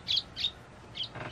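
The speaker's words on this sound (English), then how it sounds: "birds making nests in our boat is so sweet" A few short, high chirps from a small bird nesting on a boat, spaced irregularly, faint against a quiet background.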